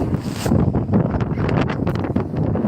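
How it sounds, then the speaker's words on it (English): Strong gusty wind at Fenit Pier buffets the microphone in a loud, close roar with rough rustling bursts throughout, no voices heard. "So I'll give you a taste of what the wind is actually like."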